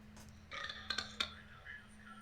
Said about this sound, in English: That was you burping?